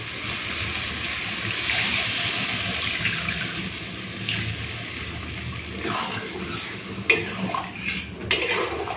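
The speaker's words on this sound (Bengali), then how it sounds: "তো পরিমাণ মতো জল দিয়ে দিই যতটা আমি ঝোল রাখবো সেই অনুযায়ী জল দিয়ে দেবো" Water pours steadily into a pot of spiced potatoes for a fish curry, a continuous splashing rush that eases off, followed by a couple of clinks of utensils against the pot, with no talk.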